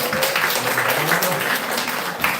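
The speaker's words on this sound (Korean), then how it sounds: "우리 끝까지 잘 견뎌준 우리 어린이들과 우리 교육부서를 박수 한번 하겠습니다" Congregation applauding the children and education department at a Lunar New Year combined family worship service in a church: steady, dense clapping from many hands filling the room, continuous throughout.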